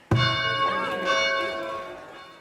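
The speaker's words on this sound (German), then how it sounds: "Kruzifix ist die Glocken laut." Church bells ring loudly in the video game Farthest Frontier: one sharp strike followed by a long, shimmering ring that slowly decays, with no other sound over it.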